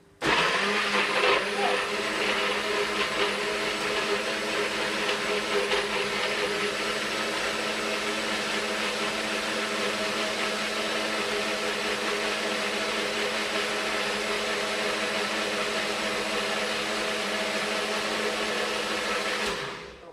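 A Nutribullet blender runs at a steady high whir, starting abruptly and holding loud and continuous for about twenty seconds before cutting off.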